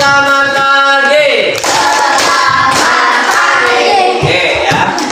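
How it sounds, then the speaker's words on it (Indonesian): A school class performs the rhythmic 'good morning' clap routine together, loud patterned group claps mixed with children's chanting voices close by. "Semuanya ya, tepuk selamat pagi."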